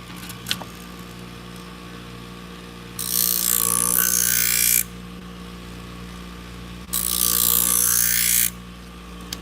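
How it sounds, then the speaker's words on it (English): A Twice as Sharp scissor sharpener hones a Shun kitchen knife edge in two steady grinding passes, each a loud, even whir of about two seconds against a quiet motor hum, separated by a short pause. "this is called the twice as sharp scissor sharpener"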